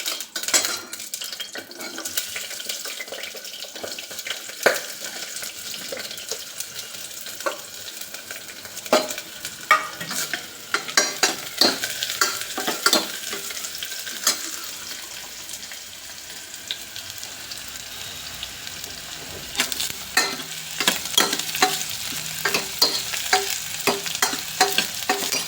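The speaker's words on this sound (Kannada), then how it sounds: "ಈಗ ಈರುಳ್ಳಿ ಹಾಕ್ಕೊಳ್ಳೋಣ." Onions frying and being stirred in a pan for a Byadagi chilli chicken gravy, with steady sizzling and frequent scrapes and clinks of a spoon against the pan throughout, close and fairly loud with no talking.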